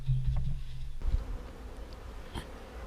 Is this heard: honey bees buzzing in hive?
yes